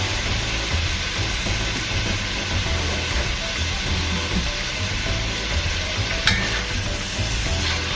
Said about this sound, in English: So I'm just stirring.